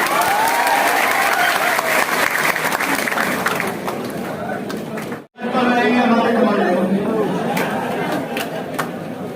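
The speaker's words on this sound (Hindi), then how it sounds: "एक बार जोरदार ताली हो जाए" A seminar audience gives a speaker loud, sustained applause mixed with crowd chatter; the clapping cuts off for a moment, then resumes with voices talking over it.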